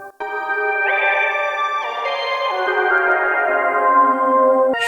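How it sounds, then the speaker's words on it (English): Professional keyboard synthesizer playing sustained chords with chorus, phaser, delay and reverb layered on, tones swelling and ringing out in a wash of echo, loud and close with no talking. "A little reverb."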